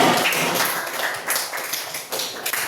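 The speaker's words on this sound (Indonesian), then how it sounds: "berikan tepuk tangan dulu" Classroom applause in an Indonesian Pancasila lesson, dense steady clapping from a group of students that continues loud and close for the whole stretch with no talk.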